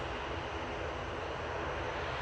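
A steady, dense engine drone with no breaks comes from an Aer Lingus turboprop airliner at Manchester Airport, heard fairly close and alone.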